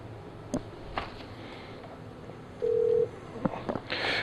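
Keypad presses on a Polycom IP 650 desk phone as an extension is dialed: a few separate clicks and beeps, with one sustained tone held for about half a second, close and fairly quiet.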